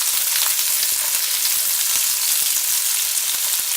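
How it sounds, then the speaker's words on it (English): Chopped onion fries in a pan alongside crumbled bacon, producing a loud, dense, continuous sizzle with fine crackling spatter throughout and no voices. "Let it fry"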